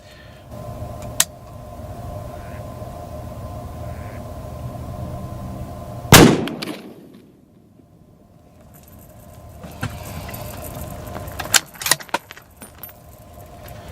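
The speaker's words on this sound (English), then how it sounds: "Now we're firing the 150 grain soft points by HPR into our target at 25 yards." A Ruger American Predator rifle in .308 fires a single 150 grain soft point round at a target 25 yards away outdoors. One sharp, loud blast stands out midway, followed by a quick decay and a faint, quiet background.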